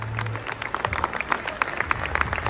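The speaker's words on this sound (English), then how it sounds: "Let's give her also a round of applause" Audience applause at a late-night concert celebration, with dense overlapping claps from a crowd carrying steadily through the whole stretch, fairly close and moderately loud.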